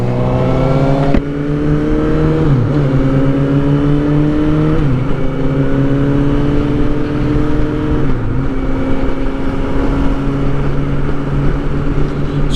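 Yamaha R6 and Suzuki GSX-S 750 sport motorcycles riding, a loud continuous engine drone that steps up through gear changes with brief dips between rising revs, heard alone without talk.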